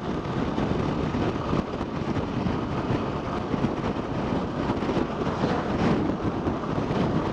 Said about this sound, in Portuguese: Que ventania, meus amigos!